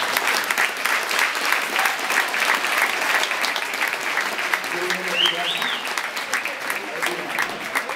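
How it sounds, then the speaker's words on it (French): A crowd claps warmly at a judo awards ceremony, continuous dense applause filling the room at steady volume, with a brief higher sound rising faintly through it midway. "Je crois qu'on peut les applaudir bien fort."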